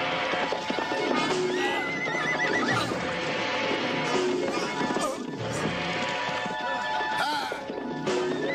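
Horses whinny repeatedly amid busy clattering hooves and commotion, with shouts mixed into the dense, loud scene.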